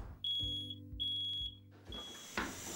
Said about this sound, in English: does everybody agree with Alex that the smoke alarm is the most important thing on the table?